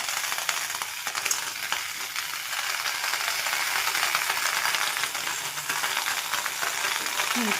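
Washed eggplant pieces fry in a kadhai with little oil and no tempering, a continuous close sizzle with occasional stirring scrapes and clicks.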